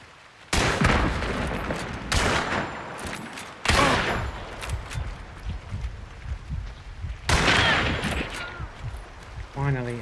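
Gunfire in the video game Hunt: Showdown: several loud, close shots and bursts break out, separated by short gaps, over a rumbling game background.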